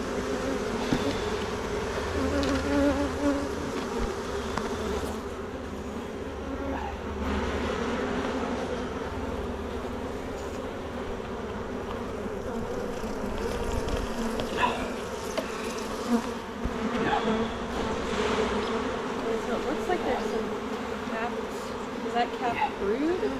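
A dense, steady drone of honeybees swarming around an open hive during an August inspection, buzzing close and continuous for the whole stretch, with faint voices occasionally underneath.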